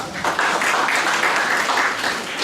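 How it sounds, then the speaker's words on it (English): A burst of loud, close applause from an iftar gathering audience, dense clapping that starts abruptly and continues evenly for a couple of seconds. "Please give a round of applause"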